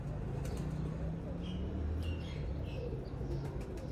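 Pure Ferozpuri pigeons coo in soft, low repeated calls close by, with a few faint chirps and rustles mixed into a quiet background.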